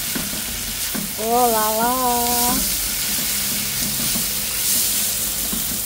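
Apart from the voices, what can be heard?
boiled beef added to pan, sizzling and stirred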